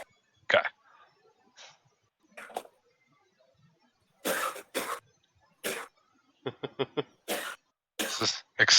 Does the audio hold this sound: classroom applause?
no